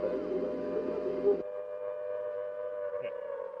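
A faint, muffled radio broadcast of a song comes through with voice-like tones, then cuts to a thin, steady hum with a brief blip near the end.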